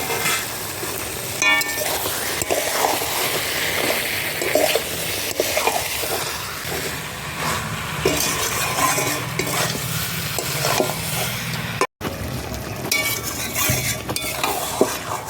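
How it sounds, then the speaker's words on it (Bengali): Pointed gourd and chicken pieces stirred and sautéed in a pan, a steady busy sizzle of frying with repeated scraping of a spoon against the pan throughout, close and loud, with no talking. "পটল আর মাংসটা ভালো করে কষানো হয়ে গেছে"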